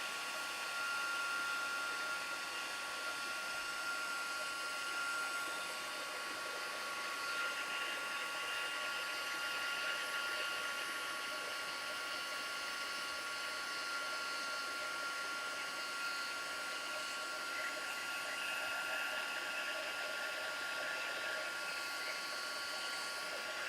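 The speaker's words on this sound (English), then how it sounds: "I come in from behind with my heat embossing, with my heat gun" A heat gun blows steadily and softly for the whole stretch, melting gold embossing powder on paper; the even, airy whir stays unchanged throughout.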